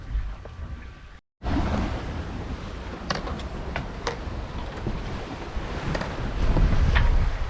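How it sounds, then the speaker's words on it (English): Steady wind buffeting and rushing water from a sailboat running downwind under head sail alone in 19 knots of wind with a modest swell off the Canary Islands, constant and fairly loud with a brief dropout early on. "Downwind sailing, 19 knots of wind."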